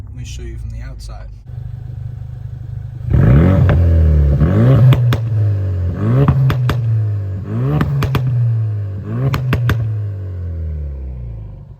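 Ford Fiesta ST exhaust heard from outside the car: a low idle, then a series of sharp rev blips that rise and fall back, with crackles between them. A brief voice is heard at the very start.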